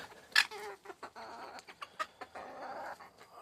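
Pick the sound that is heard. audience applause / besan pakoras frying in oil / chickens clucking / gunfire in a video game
chickens clucking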